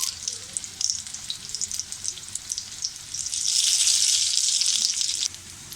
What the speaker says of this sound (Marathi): आता आपण हे छान असे एका बाजूने खरपूस भाजून घेऊया.